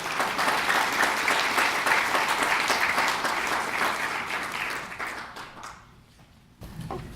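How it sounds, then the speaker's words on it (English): Sustained applause from an audience at a youth entrepreneurship investor panel, dense and even for several seconds before tapering off, then a brief thump and faint noise at the end. "Let's have one last round of applause for"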